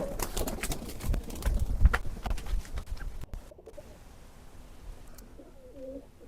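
Pigeons at an outdoor sale of high-flying pigeons, with soft cooing heard among clattering knocks and rustling in the first half, followed by quieter ambience and a faint low coo near the end.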